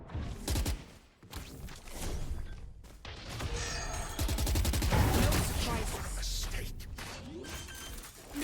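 A barrage of video-game gunfire and crashing impacts, dense and loud, with sustained bursts rolling through the middle under layered game sounds, while a voice speaks intermittently.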